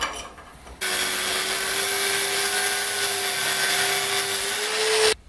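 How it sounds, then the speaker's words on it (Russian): An angle grinder cuts a slot into an old metal hinge clamped in a vise, giving a loud, steady high whine that starts abruptly and runs for about four seconds before cutting off. "делаем прорезь болгаркой"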